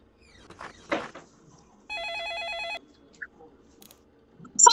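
A telephone rings once in a steady electronic trill, clear and fairly close, after some brief low voices and before quieter household noises.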